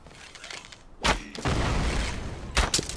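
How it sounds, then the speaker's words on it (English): Big explosion in the survival video game Enshrouded: a sudden heavy boom followed by a sustained rumbling roar, then a second thumping burst near the end, all at moderate level without talk. "Big explosion."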